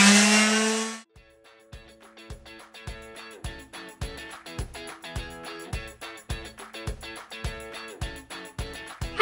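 Power sanding on wood for a cutting table: a loud opening burst, then a steady series of sharp, regularly repeating mechanical clicks or taps with a continuous hum beneath, close by and with no talk.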